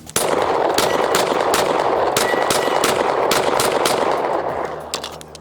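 Rapid strings of Springfield Armory Echelon pistol shots ring out loud and close, about a dozen sharp cracks over steady outdoor background noise, the last few spaced slightly apart at the end.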